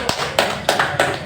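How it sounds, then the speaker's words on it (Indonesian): A few sharp hand claps ring out in a loose, uneven rhythm, about four or five separate bursts from a small audience at a wayang puppet-theatre discussion gathering, close by with no talking. "tepuk tangan untuk kita."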